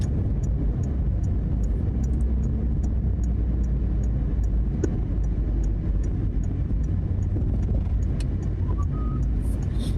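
Inside a moving car, a steady low engine and road drone fills the cabin, with soft clicks and faint voices in the background.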